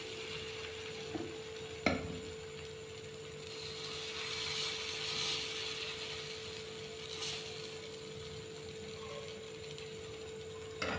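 Semolina and flour batter is spread thin in a hot pan with a ladle, giving a faint, steady sizzle with a few soft scrapes and clicks, quiet and with no voices.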